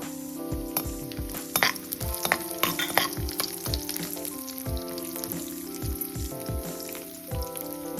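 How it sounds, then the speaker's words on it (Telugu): Cashews and raisins fry in ghee in a kadai with a close, bright crackling sizzle, while a spoon strikes and stirs the pan in frequent metallic taps throughout. "కడాయిలో 2 స్పూన్ల నెయ్యి వేసి జీడిపప్పులు వేయించేసుకోవాలి. ఇవి కొంచెం వేగాక ఎండు ద్రాక్ష వేసేసుకోవాలి."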